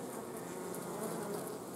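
Honeybees crawling over hive frames during a queen introduction, a close, steady buzzing drone of many bees with no other sound.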